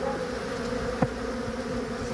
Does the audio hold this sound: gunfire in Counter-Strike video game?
no